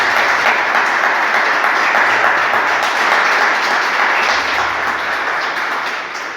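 Church congregation applauding together during a Spanish-language sermon, a steady dense wash of clapping that stays loud throughout and eases slightly toward the end.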